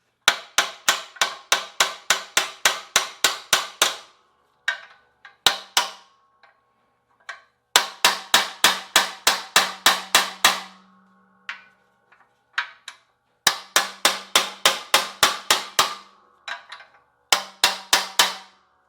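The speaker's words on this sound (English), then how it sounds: "you need a lot of hammer, a lot of sledgehammer." Repeated heavy sledgehammer blows on a badly rust-seized Subaru wheel bearing hub, fired in fast rhythmic bursts of about eight to twelve sharp metallic strikes, with brief pauses between volleys; close and loud, no talking.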